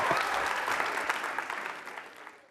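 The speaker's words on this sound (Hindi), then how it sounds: "तालियां जोरों से बजाइए, जोरदार तरीके से" Enthusiastic applause from an audience at a university Holi quiz show, loud and dense at first, then gradually thinning and fading toward the end.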